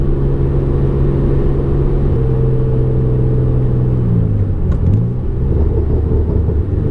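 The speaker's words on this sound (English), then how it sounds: "Downshifts are nice." Hyundai Genesis Coupe BK2 manual engine heard from inside the cabin during downshifts, a steady loud low drone that holds pitch and then swoops as revs change, with no talking.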